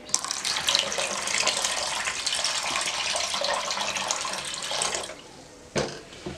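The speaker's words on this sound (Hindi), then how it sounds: "अब इसमें पानी शामिल करूंगी।" Water pours steadily into a whisked yogurt and gram flour mixture for a kardi recipe, a continuous close splashing stream that cuts off near the end, followed by a brief splash.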